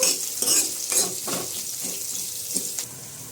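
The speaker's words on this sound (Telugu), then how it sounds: "కటింగ్ చేసి పెట్టుకున్న ఆనియన్ ముక్కలు కొద్దిగా మనము పచ్చి వాసన పోయేంత వరకు లైట్గా ఫ్రై చేద్దాము" Chopped onion pieces frying with dried red chillies and coriander seeds in a pan, a steady close sizzle broken by several scraping stirs of a spoon, with no voices.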